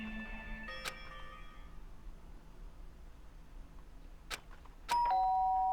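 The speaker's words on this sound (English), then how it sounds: "Ding dong." A doorbell chime from the video game Danganronpa rings clearly, with a bright tone at the start, soft ticks later, and then a sustained electronic ding near the end.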